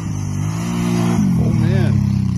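An ATV engine, a Kawasaki Brute Force or Honda Rincon, revs hard through a downhill wheelie. The engine drones loud and steady, then pitch swoops and wavers as the throttle changes, with voices close by.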